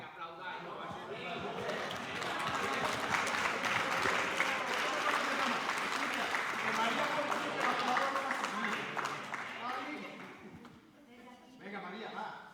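A crowd at a round-table question session breaks into dense, steady applause for about ten seconds, the clapping rising quickly and then fading, with voices heard at the edges.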